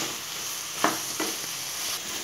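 Chicken masala with sautéed onion and tomato is mixed in hot oil: a soft continuous sizzle with two brief scraping strokes of the spoon, close and fairly quiet.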